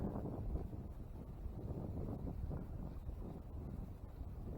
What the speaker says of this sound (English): with this wind blowing now